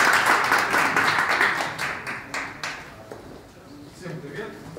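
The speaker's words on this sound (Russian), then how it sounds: "Итак, встречаем аплодисментами команда ЧПДС" Audience applause greeting a hackathon team as it takes the stage, dense clapping at the start that thins and fades over a few seconds, with scattered claps and murmuring voices near the end.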